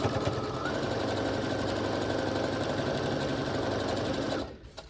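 A sewing machine stitching quilt fabric pieces together for a kaleidoscope quilt, running in one continuous fast, buzzing, close-up whir before stopping abruptly just before the end.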